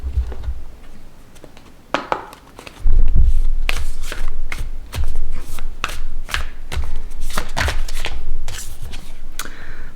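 Tarot cards are shuffled by hand in repeated, crisp riffling bursts with brief pauses between them, close and fairly loud, with no talking.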